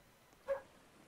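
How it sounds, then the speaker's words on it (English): A single short dog bark in a Roblox game, faint and distant, breaks an otherwise quiet background. "I wish that dog that's barking outside will just shut up."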